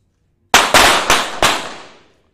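Four sharp pistol shots crack in quick succession at a 25m shooting range competition, each with a bright burst and a reverberant tail that fades out after the last shot.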